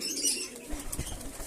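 Domestic house pigeons coo softly in a few low, throbbing pulses close at hand, with faint rustling and no voices.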